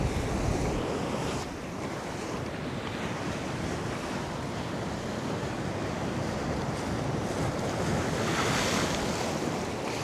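Sea waves surge and break at the shore along the ECR coast while strong wind buffets the microphone, a loud, continuous roar throughout.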